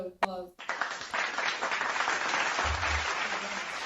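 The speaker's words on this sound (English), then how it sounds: "Give him a round of applause." A crowd breaks into sustained applause after a short spoken line, a dense wash of clapping that starts abruptly and holds steady, with a brief low voice murmuring beneath it near the end.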